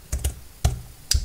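Several separate keystrokes on a computer keyboard while a search term is typed into an MS Access form, heard as soft, close clicks spaced irregularly with quiet pauses between them and no talking.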